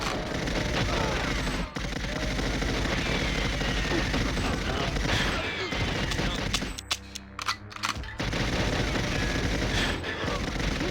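Gunfire in GoldenEye 007 on the N64, a constant rapid stream of shots over a dense, loud game soundscape, briefly cutting out near the middle before resuming, with someone talking over it.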